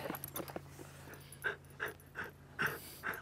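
An excited dog pants close by in quick, rhythmic bursts of breath. The sound is fairly quiet, with a few soft snorts over a low background hum.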